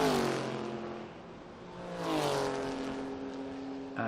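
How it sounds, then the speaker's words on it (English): A Porsche racing car at the Estoril Classics circuit race sweeps past, its engine note rising and falling as it goes by at moderate distance, fading then surging again, with no commentary heard. "taken over from Carlos Barbo by Pedro Matos, passing the Porsche."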